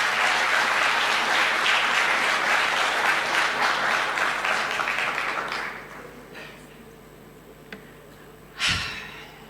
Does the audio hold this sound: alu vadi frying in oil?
no